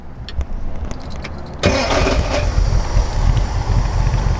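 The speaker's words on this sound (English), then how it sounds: "Starts right up. It's got a mini high torque starter, so it jumps right in there." A hopped-up Flathead V8 in a 1938 Ford Deluxe Cabriolet, fitted with a mini high-torque starter, cranks briefly and catches, then settles into a loud, steady rumbling idle close by.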